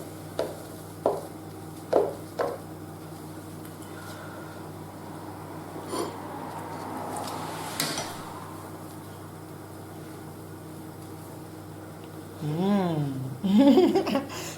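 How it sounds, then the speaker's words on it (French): A knife slices through a banana-based, dairy-free waffle, giving four crisp, evenly spaced cutting crunches at the start, followed by quieter handling sounds and a brief spoken French voice near the end. "Donc là, je coupe pour que vous puissiez voir un peu."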